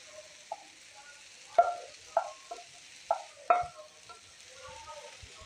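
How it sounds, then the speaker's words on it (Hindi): Boiled potatoes being mixed in a frying pan, a handful of distinct spoon knocks and scrapes against the pan over a faint background hiss. "आलूओं को मैं इसके अंदर अच्छी तरीके से मिक्स कर लूँगी।"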